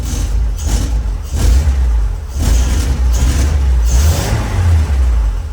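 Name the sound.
old truck engine revving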